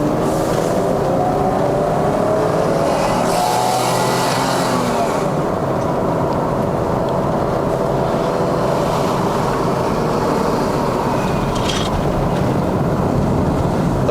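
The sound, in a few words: BMW E39 523i car engine driving uphill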